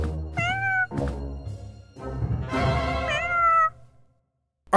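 A cat meows twice in clear, rising-and-falling calls close by, with a longer drawn-out meow after a brief pause, then quiet with a short bump at the end.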